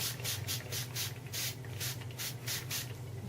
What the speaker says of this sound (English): I'm going to spritz around the corner here.